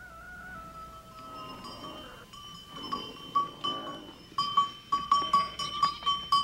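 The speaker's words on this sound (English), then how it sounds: "yaks and goats are sent to stony pastures" Goats in a stony Sherpa village pasture in the Himalayas, with a few short bleats and clinking bells rising over steady background tones, growing busier and louder toward the end.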